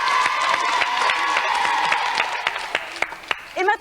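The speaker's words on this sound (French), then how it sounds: "on les applaudit encore." Studio audience applause on the French TV show Disney Club on TF1, a full burst of clapping with some cheering that thins into scattered claps near the end before a voice cuts in.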